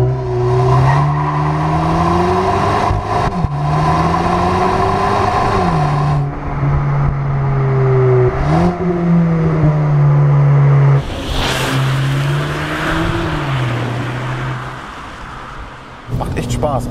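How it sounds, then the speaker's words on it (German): A VW Polo GTI's engine and exhaust rev up and fall back repeatedly while driving, with rising pitch sweeps as it pulls through the gears and brief drops at each shift. A voice talks at times over the engine. "soundmäßig ist auf jeden Fall hier auch einiges los bei dem Auto"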